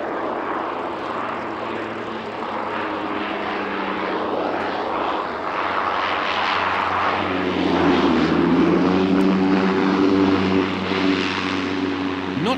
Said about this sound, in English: Major players in the war against weeds, the turbine-powered Cresco topdressers from New Zealand's Whanganui Aero Work.